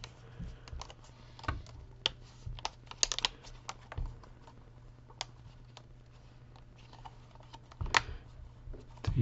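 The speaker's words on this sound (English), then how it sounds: "You hear them kind of click into place." Plastic keyguard tabs snapping into an Andnary tablet case, a handful of sharp clicks scattered across the clip, close and distinct over a low steady hum, with a louder cluster near the end.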